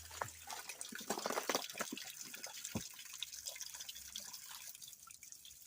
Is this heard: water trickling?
yes